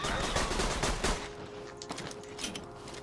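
Rapid gunfire in the video game Borderlands 2, a dense burst of close, loud shots in the first second that thins into scattered, quieter pops and hits.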